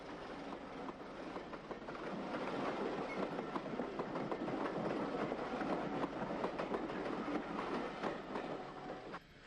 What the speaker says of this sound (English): A-class diesel A33 is seen arriving at Ennis